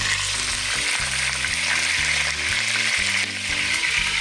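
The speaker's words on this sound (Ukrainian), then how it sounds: "Дуже сильно стріляє, тому що максимальний вогонь." Loud, steady sizzling of chicken thighs frying in hot oil over maximum heat, a dense crackling hiss throughout, close up with no voices.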